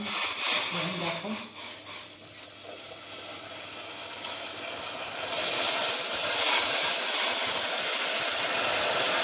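Water poured into hot caramel in a pan, a steady broadband hiss that swells to a louder, sustained sizzle midway through, with a voice talking underneath.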